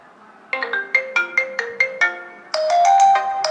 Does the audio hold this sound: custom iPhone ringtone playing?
yes